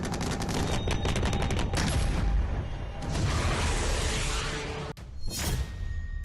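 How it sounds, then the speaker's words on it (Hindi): Gunfire at a border with Pakistan, a loud sustained fusillade of rapid automatic shots with booming blasts mixed in, dense and continuous with a brief pause near the end before another burst. "पाकिस्तान बॉर्डर पर गोलियां चलने लगी।"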